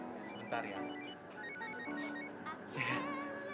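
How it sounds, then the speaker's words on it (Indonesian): A telephone rings in repeated warbling bursts at moderate loudness, layered over background music and room sound, with no clear speech. "Telepon."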